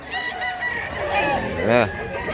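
Chickens and a rooster at a poultry market in Mantalungon, Barili, Cebu, sounding as a few nearby clucks and a louder harsh crow-like call rising and falling, with crowd noise behind.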